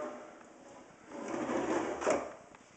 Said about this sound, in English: Here they got a pull-out drawer.